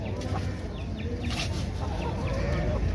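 Hen clucking at a bustling outdoor bird market, soft repeated clucks close by amid constant crowd murmur and market noise.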